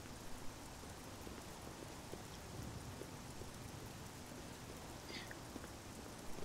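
Rain falls in the video game Oblivion, a soft, even patter of drops holding steady and faint throughout.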